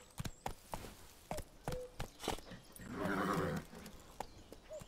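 Roach the horse's hooves clatter in a quick, uneven beat in The Witcher 3, with a brief snort or whinny midway and a faint higher call near the end, heard alone without talk.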